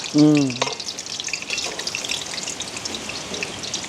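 Carrot paniyaram batter crackles and sizzles in hot oil after a wet spoon touches it, giving steady close frying noise with scattered pops, while a brief voice speaks at the start.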